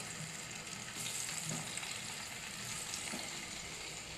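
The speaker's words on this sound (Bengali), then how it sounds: "আবার এখানে দেখো একটু আলু ভাজাও হবে" Potatoes sizzle steadily in a pan of hot oil during simple home cooking, a continuous close crackling hiss with no talking.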